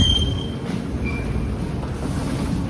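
A metro subway train on its rails on a very cold day: a low, continuous rumble of wheels with brief high metallic squeals, close and fairly loud, without voices.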